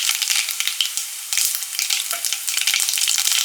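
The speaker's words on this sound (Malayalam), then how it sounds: "ചൂടായ വെളിച്ചെണ്ണയിലേക്ക് കുറച്ച് കടുക് ഇട്ട് പൊട്ടിക്കുക." Mustard seeds splutter and pop in hot coconut oil in a pan, a loud, close, continuous crackling sizzle with dense rapid pops throughout.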